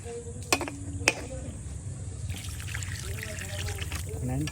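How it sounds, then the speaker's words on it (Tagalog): Water is poured into a cooking pot in a home kitchen, a thin steady trickle running for a few seconds after a couple of sharp metallic taps, fairly quiet against low background hum. "tapos naglagay na po tayo ng tubig po guys"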